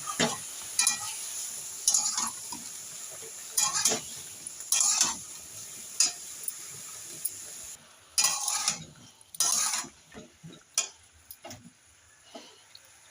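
Eggplant pieces coated in salt and turmeric, stirred as they fry in a pan, repeated scraping and clinking strokes of the spatula in irregular bursts over a faint sizzle, close up with no talking.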